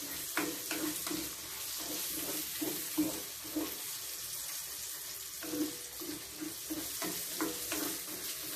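Food sizzles in a frying pan while someone stirs it. Scraping strokes come in an irregular rhythm over the steady crackle, close up and moderately loud.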